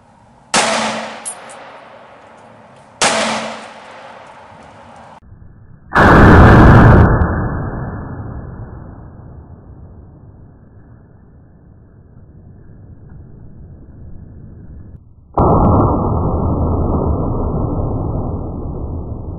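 Gunshots hit a plastic bathroom cleaner bottle at an outdoor target line: two sharp, loud reports a few seconds apart, then a louder blast with a long rushing decay and a further heavy burst near the end.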